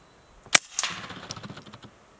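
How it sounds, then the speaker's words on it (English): A suppressed Ruger Mark IV .22 pistol fires a single sharp, quiet shot at a can, followed moments later by a faint metallic ping and brief rattling. "we're gonna do it very silently with a silencer. This is a Ruger Mark IV"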